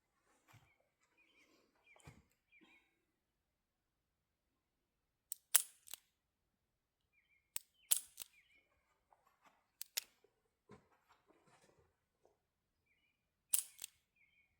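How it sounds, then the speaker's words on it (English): A .32 S&W Long revolver is dry fired, giving a handful of sharp, isolated mechanical clicks spaced a second or two apart, close and crisp against near silence with faint handling noise between them. "So we'll try dry firing first."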